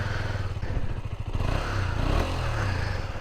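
A single-cylinder motorcycle running through its stock exhaust, idling with a steady low thumping pulse and a brief blip of throttle, close and continuous with no voices.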